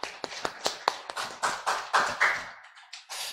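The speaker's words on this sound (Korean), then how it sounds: "우리 하나님께 영광의 박수 올리겠습니다" Scattered hand claps from a church congregation during a Sunday morning Korean service, a handful of irregular sharp claps building briefly into a short burst of applause before trailing off.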